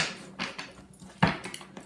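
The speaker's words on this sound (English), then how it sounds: "One more shuffle." Tarot cards being shuffled by hand, several soft papery riffles and slaps in quick bursts, close and fairly quiet, with one sharper snap near the middle and no voices.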